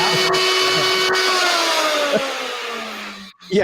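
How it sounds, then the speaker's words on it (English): A regular kitchen blender runs close by with a loud whirring motor, its pitch sliding steadily downward as it spins, with a couple of sharp clicks and a brief break near the end. "that's the sound of regular blender"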